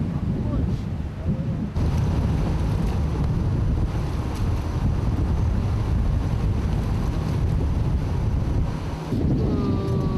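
Strong wind at sea buffeting the deck during undersea cable-laying work between Jindo and Jeju, a steady loud roaring rush with gusty microphone buffeting throughout and water noise beneath.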